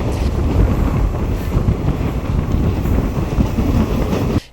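Inside an unreserved passenger train, number 57302, running from Medak to Kachiguda, a constant loud rumble and rattle of wheels and carriage fills the whole stretch, with wind buffeting the microphone, and then cuts off abruptly at the end.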